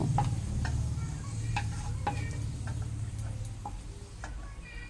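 Steady sizzling of cashews frying in ghee over medium heat, with scattered scrapes and taps of a spoon stirring in the pan, continuous and close.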